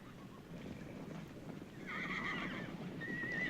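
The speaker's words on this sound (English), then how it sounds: "It's a lot of horses." Horses neigh and whinny over a steady bed of clip-clopping hooves in a 1972 Western, the whinnies rising loud and shrill in the second half above continuous hoofbeats.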